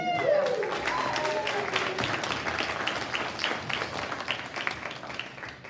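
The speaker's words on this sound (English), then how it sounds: "you guys deserve a round of applause" An audience at a high school Rock of Ages band concert claps together, a dense patter of hands that carries on steadily and eases off a little toward the end.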